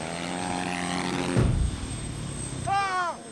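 Propeller aircraft drone from a video game, a steady buzzing engine tone that swells briefly in the middle, with a voice near the end.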